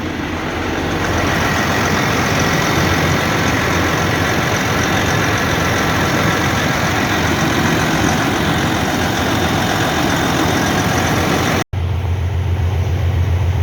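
A Freightliner truck engine from 2004 runs steadily at idle, a continuous low rumble with a broad hum, briefly cut off near the end before resuming.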